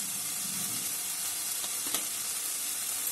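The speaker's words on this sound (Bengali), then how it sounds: "এটাকে ভালো করে আমি কষিয়ে নেব" Spices with turmeric and a little sugar sautéing in a pan, giving a continuous close hiss and sizzle with a couple of faint stirring taps midway.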